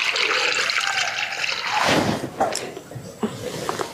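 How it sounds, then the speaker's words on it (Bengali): Water pours steadily into a cooking pot holding raw jackfruit pieces, a continuous splashing gush that changes tone midway as the pot fills, then trails off into a few drips and small splashes. "দিয়ে দিব এখন জল।"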